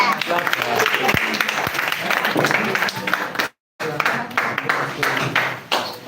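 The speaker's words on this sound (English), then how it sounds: "Clap for her." Schoolchildren clap during a live screen printing demonstration, a loose busy mix of hand claps under chatter and voices, with a short dropout of silence midway before the clapping and talk resume.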